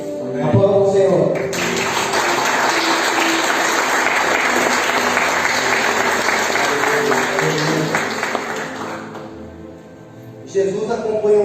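A church congregation applauds at a worship service, with loud, dense, sustained clapping for about nine seconds that fades out, and voices heard at the start and end.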